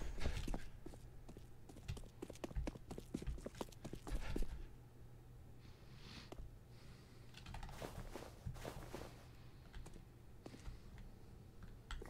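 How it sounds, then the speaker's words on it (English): Footsteps in a Roblox horror game: a run of sharp, clicky steps tapping irregularly, some bunched close together and others fading, heard alone over a low steady hum with no talking. "I thought I heard a separate set of footsteps."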